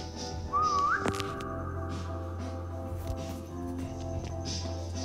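In the Roblox game 3008, a player's whistle rises as one short, clear tone, followed by a sharp click over a steady low game hum, with no talking.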